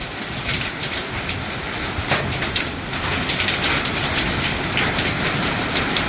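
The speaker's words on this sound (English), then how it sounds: "Big hail. Big hail." Large hailstones pelt the ground and surfaces during a tornado-warned storm in Gorman, Texas, a dense, continuous clatter of sharp impacts that holds steady and grows slightly louder partway through, with no talking.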